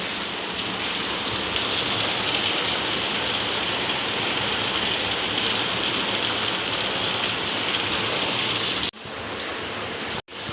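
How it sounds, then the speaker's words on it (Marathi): Steady, heavy monsoon rain pours down in a dense, unbroken roar for about nine seconds, then briefly cuts and resumes. "कंटिन्युअसली आज चार दिवस पाऊस पडतोय"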